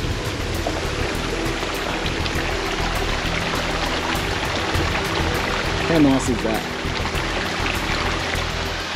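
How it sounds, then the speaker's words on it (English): Waterfall on a hiking trail to Rat-a-tat hut, a steady broadband rush of falling water close by, with someone talking briefly over it. "So let's go, waterfall number 1."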